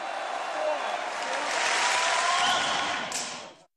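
A crowd claps steadily, building to a dense, sustained applause that swells in the middle and then fades out, with a voice speaking over it.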